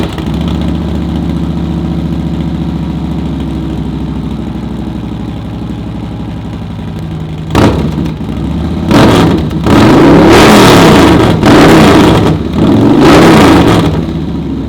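Motorcycle with a new 4.5-inch 2-into-1 exhaust kit idling with a steady low rumble, then rising into several loud, sharp revs in quick bursts, close up.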